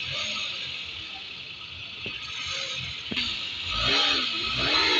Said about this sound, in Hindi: बहुत ही ज़बरदस्त इसकी इंजन की साउंड है गाइस